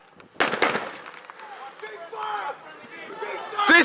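Gunfire at a WWII reenactment battle in a town in Linden, Tennessee: a couple of sharp cracks early on and another near the end, with people shouting and talking between the shots.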